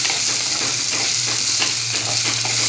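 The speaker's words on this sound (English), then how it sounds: "Now I'm going ahead and adding 1 tomato, which is cut into slices. And we'll mix this for a while." Sliced tomato is stirred into golden brown fried onions in a hot pan for a fish curry, a loud, close, continuous sizzle with rhythmic scraping strokes of the spoon.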